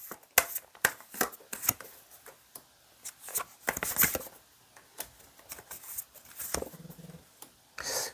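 Tarot cards shuffled and drawn by hand during a reading: a run of sharp riffling and slapping card sounds at varied pace, close and fairly loud, with brief pauses between bursts.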